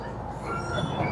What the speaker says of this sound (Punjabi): ਇੱਕ ਤਾਂ ਟ੍ਰੇਨ ਵਾਲੀ ਐਕਟੀਵਿਟੀ ਆ